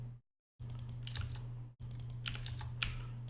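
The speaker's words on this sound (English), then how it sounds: "Oh, fucking keyboard." Keys tapped on a computer keyboard in quick, uneven bursts over a steady low electrical hum, with a brief silent gap near the start; no one speaks.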